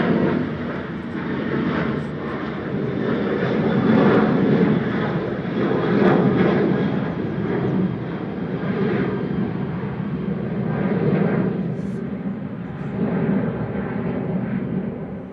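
A Boeing 737-800 operated by Malta Air departs Manchester Airport, its jet engines producing a loud, sustained roar that swells and wavers throughout without any talk.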